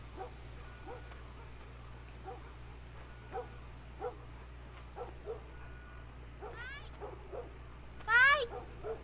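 A dog barks and yips at a distance in the video game The Last of Us, a series of faint, scattered barks over a low hum, ending in a couple of louder, closer yelps.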